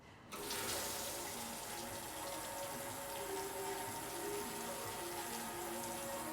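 Tap water runs steadily into a sink while someone rinses off, a loud continuous splashing stream that starts abruptly and carries on alone without talk.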